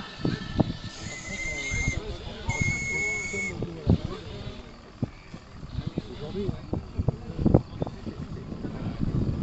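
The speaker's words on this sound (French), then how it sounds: "Allez, un petit coup de sifflet." A radio-controlled model steam boat's small steam whistle, on a Goliath model, sounds twice in short toots amid breezy outdoor noise and scattered knocks, with people talking nearby.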